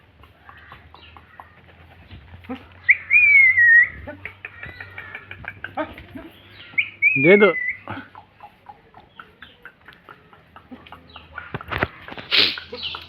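A watercock's loud call rings out twice over background chatter, with sharp whooping notes standing out above murmuring voices and scattered noise.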